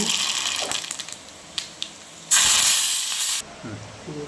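Mustard seeds hit hot oil for a tempering, giving a sudden loud broadband hiss and sizzle that holds for about a second before dropping away, with faint crackles and kitchen noise before it and a few soft pops after.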